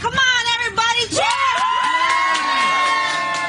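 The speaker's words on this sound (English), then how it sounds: "Let me hear you cheer so loud that the entire community here will hear us and know exactly why we are here." Protesters outside a Republican congressman's family home in Minnesota cheer loudly, with whoops, shouts and high children's voices rising over the crowd roar, close and sustained.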